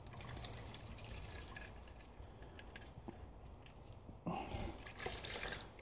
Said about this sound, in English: see exactly how much water came out of these intercooler pipes